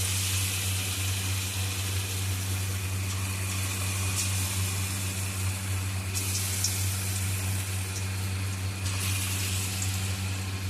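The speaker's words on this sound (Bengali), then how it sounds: "এবার আমি চিকেনগুলোকে এক এক করে ফ্রাই করে নেব।" Chicken pieces fry one at a time in white oil in a kadai on a gas stove, giving a steady close sizzle over a low constant hum, with no talking.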